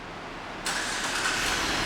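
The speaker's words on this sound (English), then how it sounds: "and the car starts right up." A 2012 Cadillac CTS Coupe with the 3.6 engine starts by remote start: quiet idle-like hiss, then a sudden loud crank-and-catch that settles into a steady close running hum.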